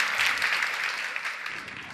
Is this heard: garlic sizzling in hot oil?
no